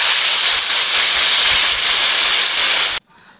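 Hot water poured into a pan of spiced taro and potato curry frying in oil, giving a loud, steady sizzling hiss for about three seconds that cuts off abruptly and leaves a faint residual crackle.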